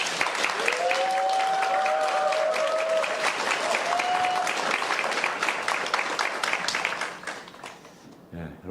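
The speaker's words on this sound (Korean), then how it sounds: "우리 목사님 나오실 때 감사합니다 박수, 또 영광은 하나님께 올려드리는 박수 올려드리도록 하겠습니다." A church congregation at a special anniversary Wednesday worship service applauds in a full, sustained burst of many clapping hands with a few voices calling out. The applause tapers off near the end.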